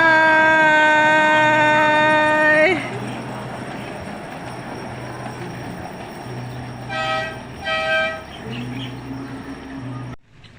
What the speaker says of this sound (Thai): รถไฟก็กำลังแล่นช้าๆ เข้ามานะคะ